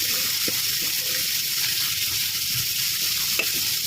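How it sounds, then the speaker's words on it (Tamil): Tomatoes sauté in a pan for semiya kichdi, a loud, constant close-up sizzle with faint stirring taps throughout. "தக்காளி பழம் சேர்த்து வதங்கட்டும்."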